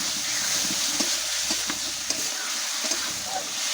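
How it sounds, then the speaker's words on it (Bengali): Snakehead fish pieces fry in hot oil as they are stirred, a close continuous sizzle broken by scraping knocks of the spatula against the pan, with no voices. "মাছ দিয়ে ভালোভাবে কষাই নেব।"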